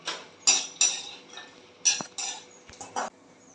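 Seeds popping as they fry in oil for nachni ladoo, a handful of sharp, distinct crackles and clicks spaced irregularly over near silence.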